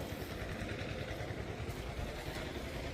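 An old tractor engine chugs steadily nearby, a low, rough, continuous rumbling idle with some rattling.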